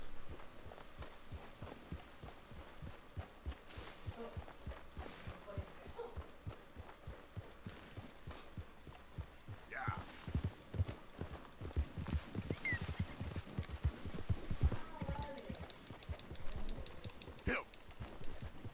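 Horse hooves clip-clop steadily in Red Dead Redemption, a fast, even trot of dense hoofbeats that runs the whole time beneath game ambience and someone speaking.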